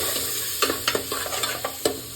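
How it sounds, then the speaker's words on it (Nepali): Tomato masala with spices, turmeric and a splash of water stir-fries in a pan, a constant low sizzle broken by several sharp scraping strokes of a spoon at irregular intervals. "अनि यसलाई पनि मजाले भुट्न पर्यो"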